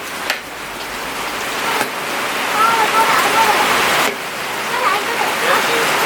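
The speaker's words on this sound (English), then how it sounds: "The rain is really coming down right now. Hopefully it's not too noisy out here because we're under a metal roof." Heavy rain pours steadily onto a metal roof in the Philippines, a loud, dense, continuous hiss and drumming that fills the whole stretch with no voices over it.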